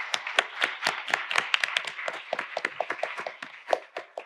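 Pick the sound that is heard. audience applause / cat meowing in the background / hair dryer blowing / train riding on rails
audience applause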